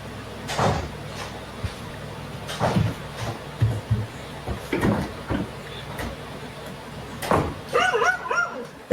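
A dog gives several sharp barks and yips at irregular intervals against a steady background hum, with a few higher whimpering calls near the end.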